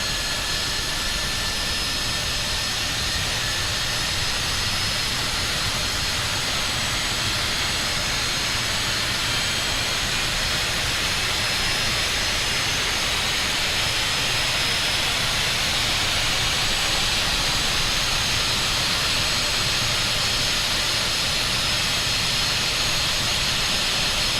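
Engine of a Cessna Citation Longitude business jet in Microsoft Flight Simulator, heard as a loud, steady turbine roar with a whine that rises slowly as it spools up, unbroken for the whole stretch with no voices.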